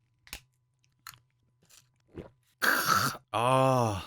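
Someone tries a men's all-in-one health supplement sachet of liquid extract with black maca, arginine, eel, ginseng and deer antler: faint scattered mouth clicks, then a loud close burst of wet, crunchy mouth noise and a drawn-out voiced hum.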